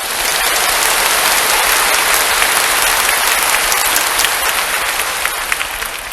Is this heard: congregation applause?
yes